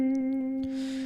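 Electric guitar playing a math rock riff with slides: clean sustained notes ringing with a slight pitch glide, then a softer noisy swell, close and clear with no talking.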